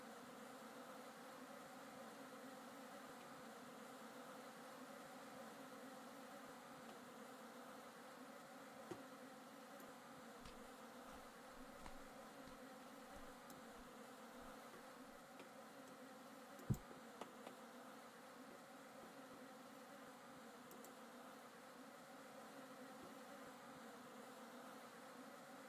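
Bees buzz in the block-building survival game Vintage Story, a low steady insect drone running through the whole stretch with a few faint clicks, no voices.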